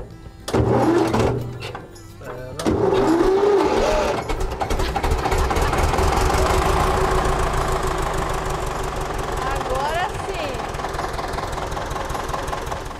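An old tractor engine cranks in a few sputtering bursts, catches, and settles into a steady, loud, close chugging idle with a rhythmic knock that runs on for about ten seconds.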